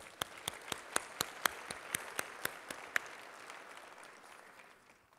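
Audience applause at the 2017 ObesityWeek opening keynote conference: sharp, evenly spaced claps ring out over a soft wash of clapping from the crowd, which thins and fades away toward the end.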